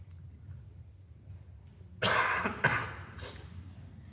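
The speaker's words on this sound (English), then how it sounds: "Sorry, I have a residual cough." Quiet background for two seconds, then a few harsh residual coughs in quick succession during a sermon, fairly close and moderately loud.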